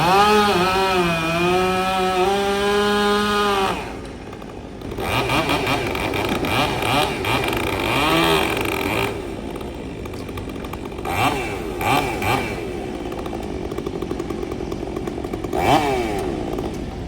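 A chainsaw works on a large, rotting old tree being felled on a street corner, the engine revving and bogging steadily as it cuts, loud and continuous throughout.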